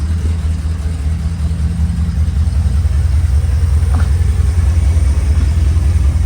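Ford Falcon Club Wagon engine running steadily after sitting for ten years, a loud continuous low rumble throughout with a slight lift near the end, no talking.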